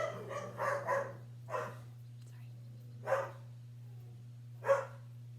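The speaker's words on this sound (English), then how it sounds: "She's probably barking at a lizard or something." A dog barks in a few short, separate bursts a little way off, with a steady low hum running underneath.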